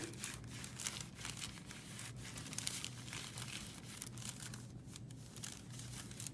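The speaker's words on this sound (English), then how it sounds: "I've switched hands and now I'm rubbing with this one to get the other side." A hand rubs paper across an inked printing plate, a continuous soft dry scratching and swishing at low volume with no talk.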